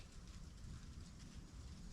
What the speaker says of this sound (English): it's sounding like some raindrops are just starting to come down